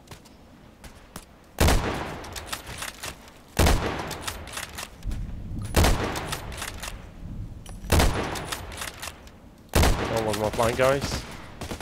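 Bursts of gunfire from a video game shooting mission, with a loud volley about every two seconds over a steady background of game noise, while someone talks briefly.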